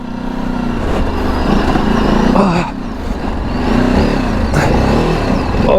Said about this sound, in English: I gotta give it some gas here or I'm not gonna make it up